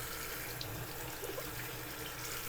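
Produce is rinsed under a running kitchen tap, a steady splashing hiss of water that stays even and close throughout with no voices.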